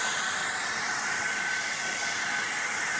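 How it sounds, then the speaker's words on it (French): Steady, loud hair dryer blowing air while drying hair indoors, an unbroken even whoosh with a hissing edge and no pauses or speech. "je vais me sécher les cheveux"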